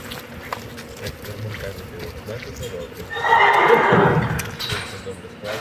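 A mare whinnies loudly partway through while people talk nearby, with faint hoof sounds and outdoor background noise on a farm selling draft horses.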